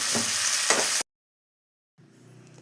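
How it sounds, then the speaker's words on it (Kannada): Carrots and beans frying in a pan: a loud, broadband sizzle with stirring scrapes for about a second, then silence, then a quieter, steady sizzle returning near the end. "ಕ್ಯಾರೆಟ್ ಬೀನ್ಸ್ ಹಾಕಿ ಸ್ವಲ್ಪ ಫ್ರೈ ಮಾಡ್ಕೊಳ್ಳಿ"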